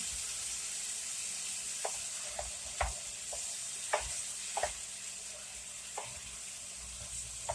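Tomatoes simmer in a pan with a little reserved liquid added, a steady soft sizzle and bubbling running throughout, broken by occasional light clicks and taps of a utensil against the pan.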